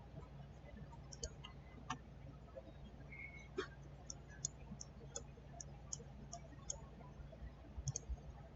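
Computer mouse clicks while selecting a house on a screen, a series of sharp, faint, close clicks at irregular intervals over quiet room hum.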